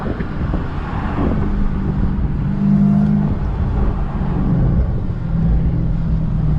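A Dodge Hellcat roars through a burnout, heard from inside the car as a steady loud engine drone mixed with wind and road rush, continuous and close.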